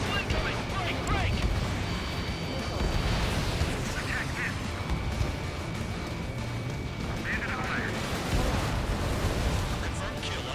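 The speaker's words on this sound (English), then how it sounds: "And we're gonna drop bombs. Boom." Bombs exploding in the flight combat game Ace Combat 7, rumbling blasts heard under continuous jet noise with talk over them.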